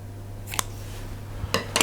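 Scissors snip the end off a piping bag of paste for hot cross buns, a couple of quick crisp cuts close by in a quiet kitchen.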